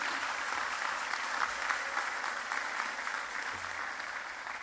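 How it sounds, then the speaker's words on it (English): An audience at a political meeting in Trinidad and Tobago applauds steadily for several seconds, a dense even wash of clapping with no pauses and no voices on top. "Would you give them a round of applause,"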